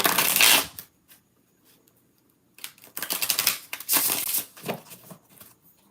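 Playing cards are riffled and shuffled in quick crisp bursts: one short flurry, a pause, then a longer rapid run of snapping cards up close.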